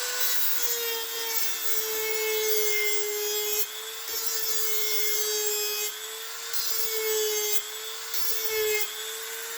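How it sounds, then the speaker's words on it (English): A Dremel rotary tool grinds a sharp 90-degree edge onto a knife spine, a steady high-pitched whine with a constant abrasive hiss and slight dips in pitch as pressure shifts, close and continuous. "a Dremel will put a nice edge, 90-degree spine on"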